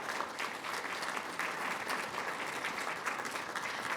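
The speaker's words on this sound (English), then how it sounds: "Please give them all a big round of applause." Continuous audience applause at a university medals ceremony, a dense, even wash of clapping from a large crowd, heard from a distance and fairly quiet, with no voices over it.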